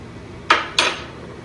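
A spoon knocks twice against a bowl, two sharp, close, ringing clinks about a third of a second apart, over a quiet room.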